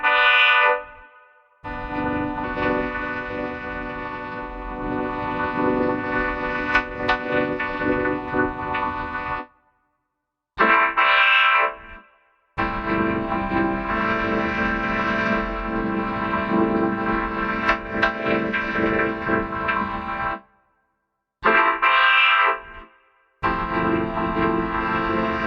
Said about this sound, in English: It turns out cat voices work well with vocoders too.